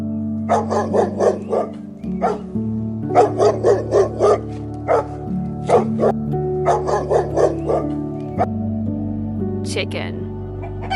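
Dog barks in a quick rhythmic series of sharp yelps, several bursts spread across the clip, heard over a steady sustained musical background.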